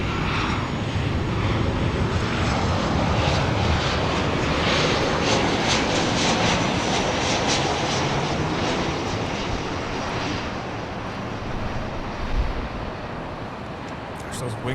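Airliner jet engines at LAX, a loud, continuous broadband roar that holds steady and then eases slightly toward the end, with voices likely mixed in underneath.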